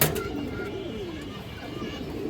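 Pigeons at a pigeon market coo low and softly beneath a steady wash of background noise, the rolling calls sounding faint and somewhat distant.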